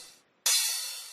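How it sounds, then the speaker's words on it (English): Crash cymbal sample in a bedroom music production setup: a bright, hissy wash that decays, a short gap, then a second louder crash that sustains and slowly fades, heard alone. "I try to add something like a crash cymbal."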